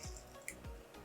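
Water squeezed out of soaked gelatin by hand for an entremet cake, soft drips and squishy wet sounds close by.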